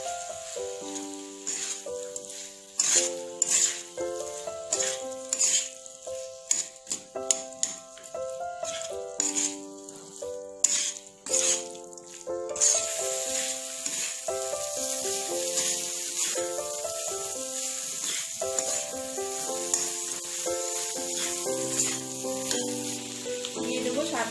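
A potato and green pea mixture sizzles and is stirred in a pan, a continuous frying hiss with occasional scrapes, set under steady background music throughout.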